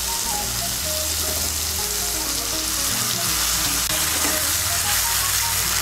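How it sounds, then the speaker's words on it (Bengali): Vegetables seasoned with salt and turmeric frying in a pan as a little water goes in, a loud continuous hiss and sizzle with faint stirring underneath, no talking. "এখন আমি এর মধ্যে দিয়ে দেবো সামান্য একটু জল।"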